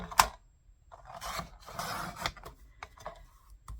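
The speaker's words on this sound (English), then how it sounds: "this last little strip, we're going to cut it in half down the middle" Scissors cut a small paper strip in half lengthwise while making a card: a sharp snip, then several soft scraping, rasping cuts and quieter clicks, close and fairly faint, with no talking.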